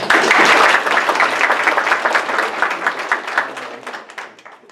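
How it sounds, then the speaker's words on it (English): Loud applause from an audience at a community business luncheon bursts out at full strength, then thins into scattered claps and gradually fades. "Please give them both a round of applause."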